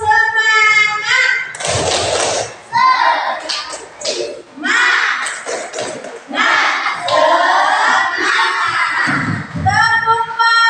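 Children in an Indonesian classroom chant a rhythmic spirit-clapping routine, tepuk semangat, their loud voices in unison punctuated by thumping group claps at intervals, with a teacher's voice leading between rounds.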